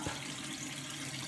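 Water runs from a kitchen tap in a soft, steady stream, faint and brief, with no one talking.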